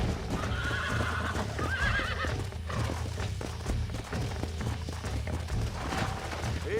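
A horse in the video game Red Dead Redemption neighs loudly a couple of times over steady galloping clip-clop hoofbeats, with game ambience and background noise throughout.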